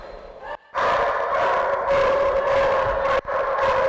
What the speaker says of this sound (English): you've been unseated as the loudest barking dog ever